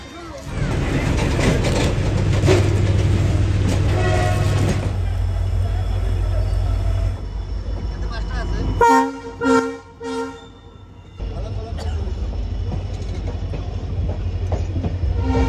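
A train passes an unguarded railway level crossing in northeast India. A loud, close rumble and clatter of wagons is broken by several sharp horn toots before the rolling noise settles into a lower drone.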